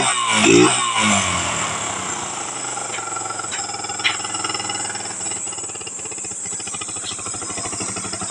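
A Yamaha XTZ 125 motorcycle runs after its CDI unit has been repaired. It idles steadily with a rapid, chattering engine note that holds close and continuous for several seconds, and one brief sharp knock stands out in the middle.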